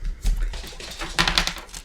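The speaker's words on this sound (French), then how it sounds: "c'est mon petit lapinou qui fait son terrier" A pet rabbit digging a burrow: quick scratching and scrabbling bursts, close and dry, like small claws digging into loose material in short rapid flurries.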